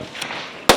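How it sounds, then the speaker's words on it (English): A pistol shot at a shooting competition stage cracks out loud and near, a single sharp report, with a fainter earlier pop just before it. "as she holds onto that pistol and fires away"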